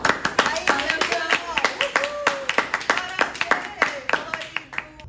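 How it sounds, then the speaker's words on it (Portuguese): A group claps briskly in quick, sharp, close hand strikes during a science show about food dyes, while voices call out and talk over the clapping throughout. "Uma salva de palmas pros corantes, por favor."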